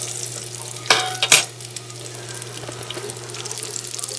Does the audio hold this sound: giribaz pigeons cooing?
no